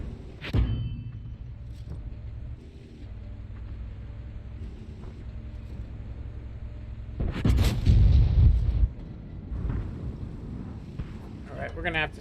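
Heavy tank cannon fire in the online battle game World of Tanks, with a loud booming blast early on and a bigger rumbling salvo midway, over steady engine drone and continuous background battle noise.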